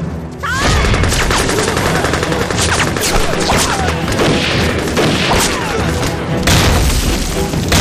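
Dense, continuous gunfire with booming explosions rages throughout a war drama battle scene against enemy troops, loud and chaotic, with bursts of automatic fire and crashes layered over one another and no clear gaps.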